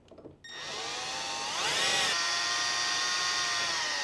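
A power drill drives the mounting screws of a TCL D1 Pro palm vein smart lock into a door, its motor whine starting abruptly, rising in pitch midway, then holding steady and close.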